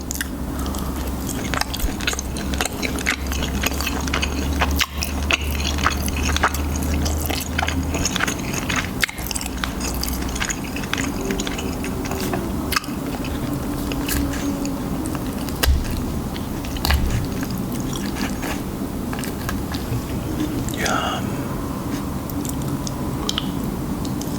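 Close, continuous crunching and chewing of a crisp, wet salad, steady bites and squishy mastication running throughout with no talking.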